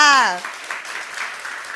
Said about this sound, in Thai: ปรบมือให้ท่านประธาน ด้วยค่ะ